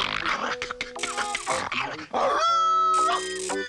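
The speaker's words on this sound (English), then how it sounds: "I snarl and growl." A cartoon werewolf snarls and growls in a short, voiced animated outburst, rising into a loud, sustained tonal growl-howl with whimpering yips before it, close and alone.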